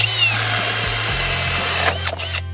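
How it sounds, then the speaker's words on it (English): Power drill boring down through a wooden wall top plate from an attic during a closet light wiring job, a loud steady whine with motor pitch shifts, slowing and stopping near the end. "I'm gonna drill down from the attic where I'm gonna run my wire through the top plate."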